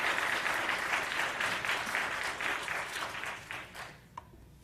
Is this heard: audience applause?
yes